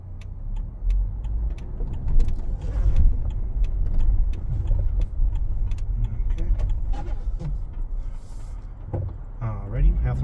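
2015 Jeep Wrangler Unlimited with a lift and manual gearbox driving at half throttle; a steady low engine and road rumble from inside the cabin, with rattles and clicks and some talk over it.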